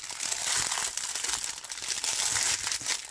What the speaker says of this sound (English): I feel guilty about crinkling